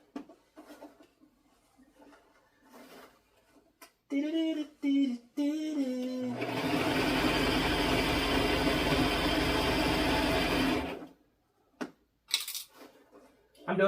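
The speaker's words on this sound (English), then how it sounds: "I'm doing a straight stitch." A sewing machine runs a steady straight stitch along a dress seam, a dense continuous whir lasting several seconds, preceded by brief clicks and a short hum and followed by a few quiet handling sounds.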